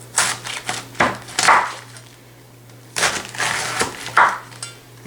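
A knife cuts the core from a halved cabbage head, making two bursts of crisp crunching and splintering cuts separated by a short pause, close and fairly loud with no talking.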